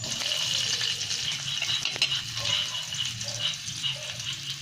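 Garlic and onion frying in a pan for a bitter-melon and salted-egg sauté, a dense continuous sizzle with a sharp stirring clack midway, close and unbroken.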